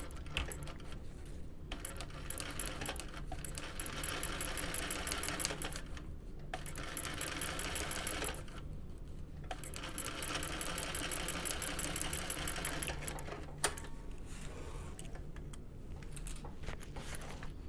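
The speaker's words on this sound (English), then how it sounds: "So I'm just going to top stitch it." A sewing machine top stitches a bucket bag made of matte-textured fabric, running in steady bursts of rapid stitching separated by short pauses, close and moderately loud with a single sharp click near the end.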